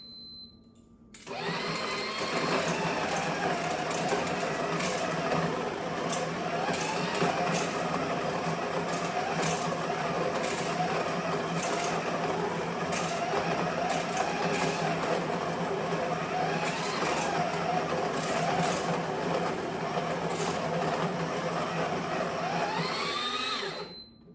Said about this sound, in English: if you want to grind beans and you're getting them stuck, this is what you do. You press start grind